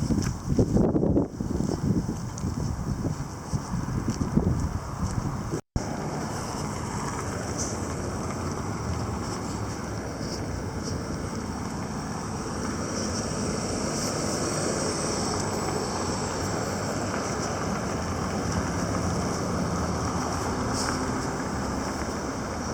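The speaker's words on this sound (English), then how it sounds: "Still windy as all hell." Strong wind roars steadily into the microphone, a dense continuous rumble with gusty buffeting that barely lets up.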